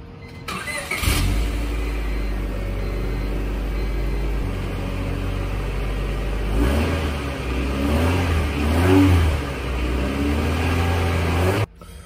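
A car engine cranks and fires up with a freshly installed muffler and centered tailpipe, then settles into a steady, loud idle with a few revs rising and falling, close by with no talk.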